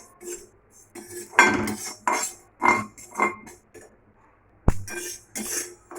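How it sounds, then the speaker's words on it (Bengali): White sesame seeds are dry-roasted lightly over low heat in a pan. Short bursts of scraping and metallic clinking from stirring are separated by brief quiet gaps, with one sharp knock near the middle. "তিলটাকে হালকা ভেজে নেবো।"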